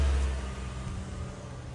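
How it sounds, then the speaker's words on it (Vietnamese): A car engine idles to warm up during a hard freeze in Houston, Texas, at about -10 °C, giving a faint, steady low hum with a slight swell at the start and no voices. "nổ máy chờ cho xe nó ấm nè"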